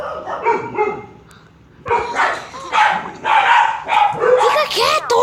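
A dog barks repeatedly close by, a few softer barks at first and then a louder run of sharp barks after a brief pause, with a person speaking at the same time.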